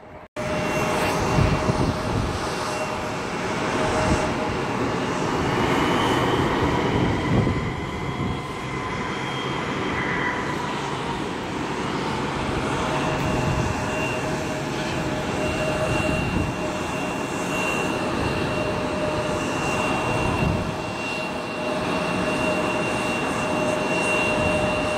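An airplane takes off at Detroit Metro Airport with a loud, sustained jet engine roar and rumble that swells, then slowly fades as it climbs away, with a steady tone running through it and no voices.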